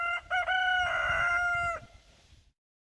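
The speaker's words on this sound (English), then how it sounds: "The roosters are crowing" A rooster crows once, loud and close, a long drawn-out call that fades into quiet.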